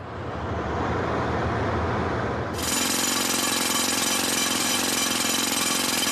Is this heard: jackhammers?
yes